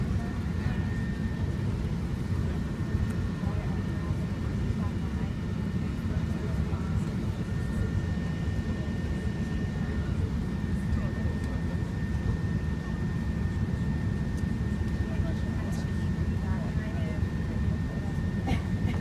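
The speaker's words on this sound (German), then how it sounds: "Und jetzt kriegt ihr die Landung vom A380 mit der Emirates noch mit." An Emirates Airbus A380 lands in Frankfurt, heard from inside the cabin as a steady, loud broadband engine and airflow roar with a low rumble that holds unchanged throughout.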